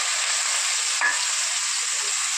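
Sliced mushrooms fry lightly in hot oil for a mushroom egg masala curry, giving a steady, close, unbroken sizzling hiss with one brief scrape partway through.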